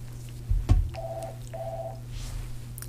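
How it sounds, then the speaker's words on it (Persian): A telephone in a TV studio sounds two short, even electronic ring tones in quick succession over a low room hum, following a brief knock. "این تلفن نمیدونم مربوط به"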